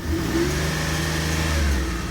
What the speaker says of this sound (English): it actually sounds like it's coming from the back, like maybe an exhaust issue